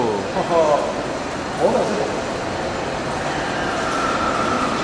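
A subway train rumbles and hisses along with a broad roar, brief squeals of the rails rising and fading.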